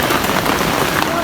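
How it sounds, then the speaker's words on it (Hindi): Heavy rain pouring on the Kedarnath trek, a dense, close hiss of drops pattering steadily on surfaces for a brief moment. "बारिश शुरू हो गई भाई, तेज बारिश।"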